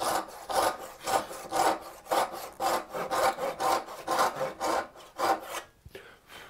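A hand saw cuts a dovetail joint in wood with steady back-and-forth rasping strokes, about a dozen rhythmic pulls close up and clear, with no talking.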